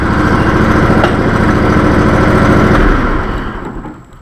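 A Legacy XL tractor engine idles with a loud, close, steady rumble, then is switched off after about three seconds and quickly winds down to quiet.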